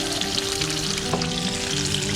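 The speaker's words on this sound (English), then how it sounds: "Okay, I'll just add my potatoes." Potatoes fry in a pan outdoors beside a carp fishing spot, a dense continuous sizzle that stays loud and even throughout.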